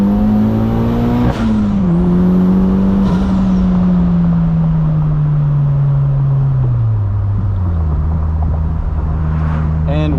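A 240 WHP turbocharged NB Mazda Miata with straight pipe exhaust accelerating, a loud continuous engine drone climbing and dropping through gear changes, heard from inside the car.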